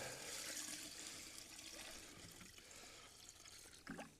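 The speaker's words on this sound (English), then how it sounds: "Put some more water in." Water poured into a bucket of compressed leaves, a steady hissing splash and gurgle that fills the clip, with a brief slosh near the end.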